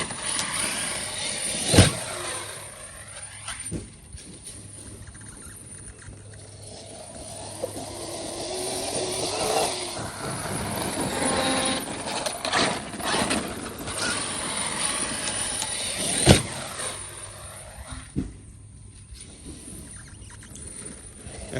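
A Traxxas Xmaxx RC truck drives on Duratrax Hatchet tires with a steady, high electric whine that surges and fades as it runs. Occasional thumps and bursts of gravelly noise punctuate the sustained motor sound.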